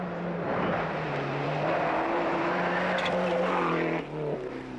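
A rally car from the 1995 Mintex National Rally Series tears through a rally stage, its engine droning loud and steady with shifting pitch, then easing briefly near the end.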